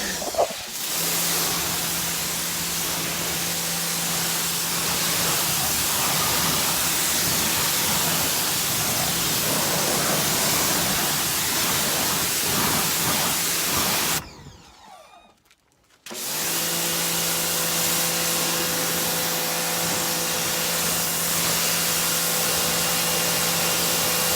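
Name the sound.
rinsing a car with a water spray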